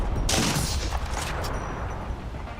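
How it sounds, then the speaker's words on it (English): Enemy gunfire in a shooter video game: a loud, dense burst of shots crashes in near the start and then rumbles on with scattered, echoing reports until the end. "He's shooting at me."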